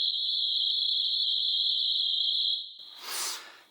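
A 1984 Yamaha DX7 synthesizer patch imitating crickets: a steady, shrill high-pitched chirring tone held for a couple of seconds, then cut off by a brief bright hissing burst.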